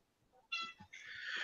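A house cat reacting to a laser pointer lets out an agitated, drawn-out meow in two bursts, the second longer and more strained, fairly close in a quiet room.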